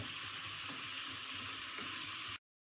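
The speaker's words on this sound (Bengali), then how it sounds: "মশলা দিয়ে এবার এইগুলো আমাকে একটুখানি কষাতে হবে।" Turmeric and chili powder spices frying in a pan for chicken ghugni, a steady close sizzling hiss with faint stirring that cuts off suddenly.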